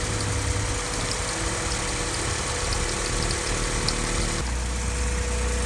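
A Honda D16Z6 engine with a port-matched Type R throttle body on its intake manifold idles steadily after starting, a continuous close mechanical drone with a slight shift in tone near the end and no talking.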